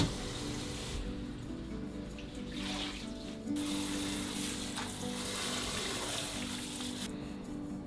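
Tap water runs steadily into a sink as parsley and coriander are washed, a continuous close splashing hiss with small shifts as the herbs are moved under the stream.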